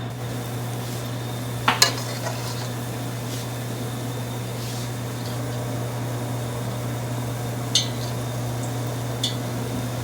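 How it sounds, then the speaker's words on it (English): Spoonfuls of Sfingi batter fry in hot canola oil with a low, steady hiss over a constant hum, broken by a few sharp clinks of a utensil against the pot. "Monica's going to spoon the Sfingi mixture into the oil"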